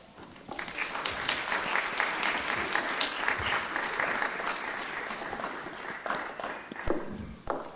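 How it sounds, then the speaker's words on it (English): Sustained audience applause fills a hall at an evening community event honouring accomplished immigrant women, welcoming two local officials, with a steady wash of clapping from many hands that swells slightly near the end. "Please give a warm applause"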